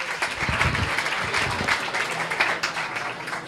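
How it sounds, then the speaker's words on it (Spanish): Audience at a Valladolid science talks event applauds the volunteers with dense, steady clapping from many hands, fairly close and sustained throughout with slight swells. "yo siempre creo que es justo que les demos un aplausito, por lo menos de recompensa"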